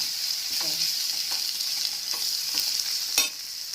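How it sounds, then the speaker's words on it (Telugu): Onion with ginger-garlic paste sizzles steadily in a hot pan for a chicken and chana dal curry, with occasional soft scrapes and taps of a stirring spoon over the constant frying hiss. "ఉల్లిపాయ బాగా వేసుకోండి అల్లం వెల్లుల్లి పేస్ట్ కూడా వేసుకుంటున్నాను"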